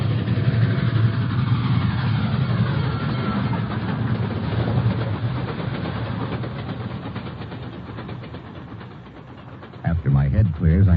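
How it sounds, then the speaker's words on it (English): Approaching train roar used as a radio drama sound effect, a dense rumbling wash that stays loud and steady, easing slightly before a sharp burst near the end. "I can make out an approaching roar. Another train heading right for me."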